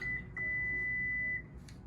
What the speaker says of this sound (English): hold the button till you hear a beep